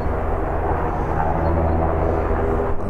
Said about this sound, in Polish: Lotniskiem obloty robią nowego śmigłowca.